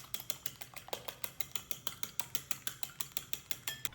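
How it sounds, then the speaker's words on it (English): An egg beaten briskly with a fork in a bowl for egg wash on bagels, producing fast, even, closely spaced clicking taps against the bowl, steady and fairly quiet. "I crack an egg and beat it well"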